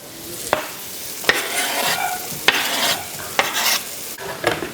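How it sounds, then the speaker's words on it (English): Onion sizzles and crackles in olive oil in a hot pan, with several sharp stirring scrapes against a steady frying hiss, close and moderately loud. "A little bit of olive oil. Onion in the hot pan."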